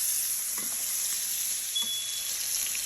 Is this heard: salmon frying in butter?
yes